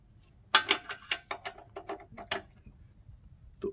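Ratchet wrench tightening a nut on a motorcycle rear brake during a brake shoe change, a run of about a dozen quick close clicks, then a pause and one final click.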